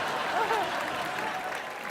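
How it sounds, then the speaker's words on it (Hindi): Studio audience applause on a Hindi comedy entertainment show, a steady wash of clapping lasting about two seconds, with a faint voice or whoop sliding briefly through it. "जोरदार तालियां हो जाएं।"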